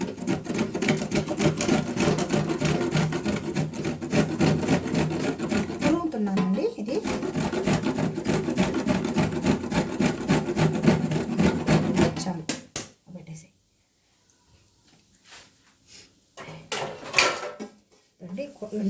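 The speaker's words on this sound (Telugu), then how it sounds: "కొబ్బరి చిప్ప కొంచెం తిరుగుతున్నాను ఎండు కొబ్బరిది" Dried coconut shell scraped and grated by hand, a dense run of coarse rasping and rubbing strokes that stops abruptly partway, leaving a few faint scrapes and clinks; a voice talks throughout.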